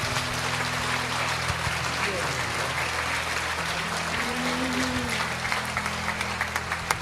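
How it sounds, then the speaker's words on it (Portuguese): Church congregation applauding during a Portuguese-language worship service, a broad steady wash of clapping mixed with murmured voices and a low sustained tone underneath, continuing evenly throughout. "Dê um aplauso ao Senhor Jesus."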